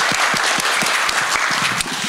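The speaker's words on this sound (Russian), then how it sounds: "Поэтому еще раз прошу аплодисменты Аркадию." Audience applause at a tech summit panel on AI and computer vision, dense and fairly loud clapping from a seated crowd with a few sharper individual claps standing out.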